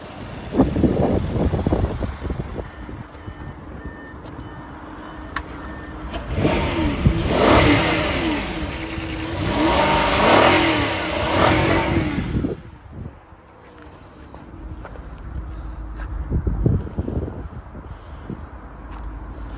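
A car engine idles and then rises in a loud surge after a cold start with the bonnet open, settling back to a rougher, quieter running sound.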